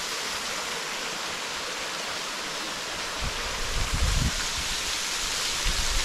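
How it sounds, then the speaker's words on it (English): Mountaineer Falls on the Appalachian Trail pours as a loud, continuous broadband rush of falling water, steady throughout with a slight low rumble building in the second half. "This is just kind of a fun waterfall."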